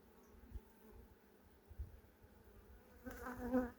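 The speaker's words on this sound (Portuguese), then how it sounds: "Abelhas de vários estados, nascendo, outras novas" A low, steady hum of many honey bees buzzing together inside a hive, with the drone swelling louder toward the end, close and continuous.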